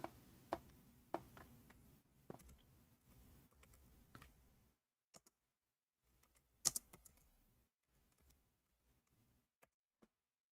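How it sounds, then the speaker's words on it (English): Quiet keystrokes on a computer keyboard tap out Arabic text in a few uneven bursts, close and soft, with pauses of near silence between groups and a sharper click around the middle. "I will type in Arabic"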